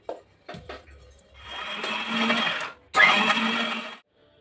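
A kitchen mixer grinder blends mutton-curry masala with coriander in short bursts: a few brief pulses, then two longer loud whirring runs separated by a pause, close up with no voices.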